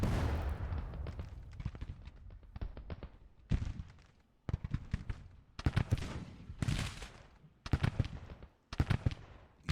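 Repeated volleys of musket and cannon fire in a Civil War battle game, sharp bursts separated by brief gaps, loud and close with rolling echoes and no talk.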